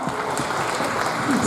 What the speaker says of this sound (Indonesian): Kita beri tepuk tangan untuk 78 tahun Indonesia merdeka.